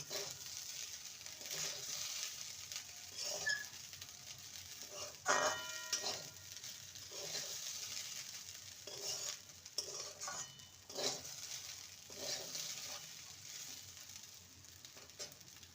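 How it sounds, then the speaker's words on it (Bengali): Sugar being stirred into soybean pulao in a pan, with a steady sizzle under repeated scraping and clinking of a spoon against the metal, several louder bursts of stirring spaced through the clip, no talking. "চিনি দিয়ে ভালো করে নেড়ে নেবো"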